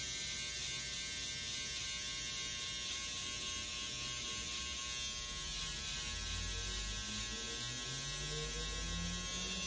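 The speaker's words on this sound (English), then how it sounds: "Especially when using this trimmer." An electric hair trimmer buzzes steadily at close range while cutting hair at the back of the neck during a self-haircut, a continuous motor drone that swells slightly toward the end.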